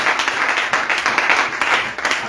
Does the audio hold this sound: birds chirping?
no